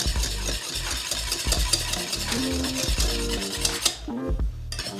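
A spoon or whisk stirs thickening pastry cream in a pot, scraping steadily and rhythmically at close range, with the thick mixture bubbling beneath; a brief pause near the end.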